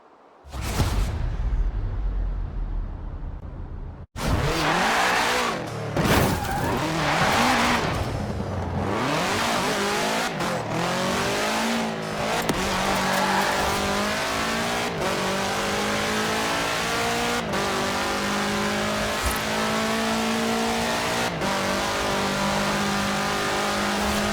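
A car fitted with a 2.5-liter F4 turbo engine in the Forza Horizon 4 racing game revs hard and climbs through the gears, its engine note rising and falling repeatedly with brief shifts. It is loud and close throughout, with no voices.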